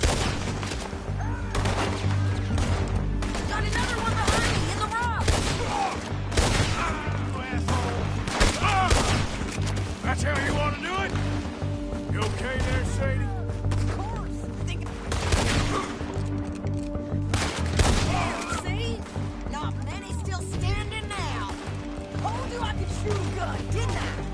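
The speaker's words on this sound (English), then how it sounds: "I'm shooting" Dense, rapid gunfire in the Red Dead Redemption 2 video game, with overlapping shots and volleys crackling continuously throughout, mixed with game sounds and voices talking.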